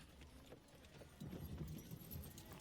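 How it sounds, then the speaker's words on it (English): A horse and cart pass outside with faint, steady clip-clopping hooves set low in the background, with no voices. "I can hear horse and cart"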